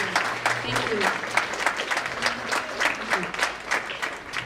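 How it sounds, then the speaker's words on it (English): An audience at a youth celebration event claps for the school districts, a dense patter of hands rising and falling in waves around a single voice speaking over it. "Let's give a round of applause for all the school districts that are here."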